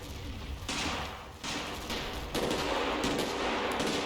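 Gunfire trades back and forth in a Combat Mission battle at Monte Cassino: sustained crackling volleys and bursts, with sharp onsets recurring every second or so and a louder swell near the end, fairly distant and unbroken by voices.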